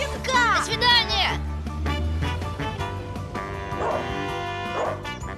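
Puppy barking in short high yips and whimpers, close and loud, with voices talking around it.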